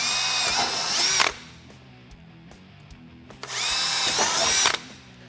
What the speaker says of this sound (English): we're going to drill through the factory indentions